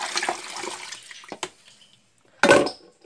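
Water splashes and pours into a bowl of leftover mixture in a kitchen, with scattered small splashes, a brief drip, a pause and then a louder burst of pouring near the end.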